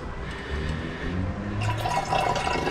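Liquid refining waste from gold recovery poured into a waste container, a steady close trickling fill that grows splashier toward the end, with no talk.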